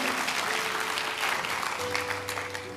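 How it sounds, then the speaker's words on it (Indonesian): Dense crowd applause from a church congregation fills the space steadily, with faint sustained tones underneath from instruments or voices. "Beri tepuk tangan buat Tuhan"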